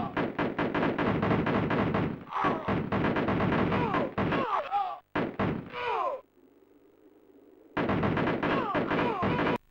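Gunfire and explosions from the Cannon Fodder video game running on an Acorn Archimedes A3000, dense rapid bursts of shots and blasts that stop briefly and resume loudly, with a quieter low hum in between.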